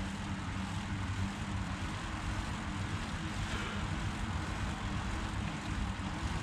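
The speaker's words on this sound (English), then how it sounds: "I'm on the lowest resistance on the trainer." Indoor bicycle trainer spinning at its lowest resistance in an easy gear with light wheel contact, a steady, continuous low whir and hum that holds at an even level throughout.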